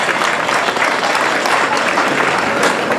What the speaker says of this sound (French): je voudrais vraiment qu'on les applaudisse encore très très fort